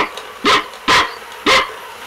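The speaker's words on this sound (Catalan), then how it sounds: "I què fa el gos? Bup, bup." A dog barks three times in quick, evenly spaced sharp bursts, close and fairly loud, with quiet gaps between and no talking.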